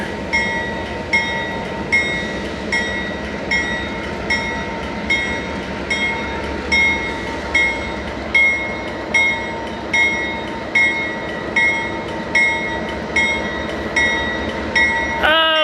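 A freight train rolls past nearby, its steady rumble marked by a regular, rhythmic clatter of wheels, with high ringing tones above.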